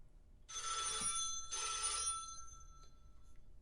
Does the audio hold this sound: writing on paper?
no